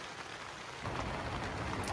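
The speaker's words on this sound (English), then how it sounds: "the wind and the rain combination is pretty soothing" Steady rain falls on a tent at night amid wind, a soft even hiss that grows denser and louder partway through, heard close and alone without voices.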